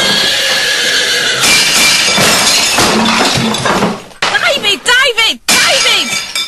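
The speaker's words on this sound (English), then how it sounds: "what's the worst thing you can do if you're standing behind the horse? Startle it, Gaffer" A startled horse neighs amid a loud comedy sketch scene with crashing, breaking glass and clatter, the whinny rising near the end over busy background noise and voices.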